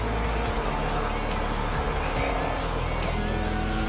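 Alfa Romeo GTB race car running on a circuit, its engine a loud, continuous drone that stays close and steady, with other race cars blending into the dense roar throughout.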